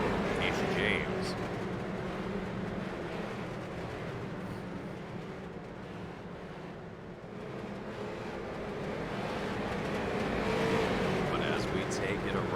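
Street stock race cars circle a track during a pro-am race, a sustained engine roar under continuous commentary, swelling louder toward the end as cars approach.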